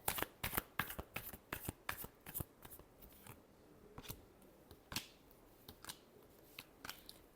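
Tarot cards being shuffled during a Cancer love reading: a rapid run of crisp riffling snaps and slaps, close and clear, with no voices.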